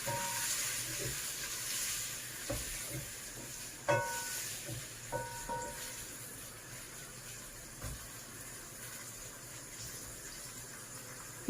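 Fresh tomatoes sizzle quietly in a frying pan, a soft steady hiss broken by a few light clinks and scrapes as they are stirred.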